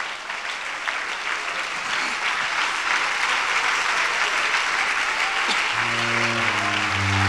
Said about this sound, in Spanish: Póngase en pie en esta noche, aplaudiendo su presencia.